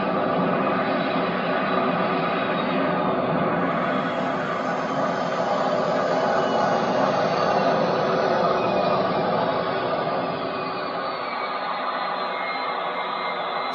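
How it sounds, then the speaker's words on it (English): A BatBerry turbine sound effect spools down from full throttle to idle, a loud steady jet whine that gradually drops in pitch and eases off, heard alone. "So there, now it's back to the idle speed of the turbine"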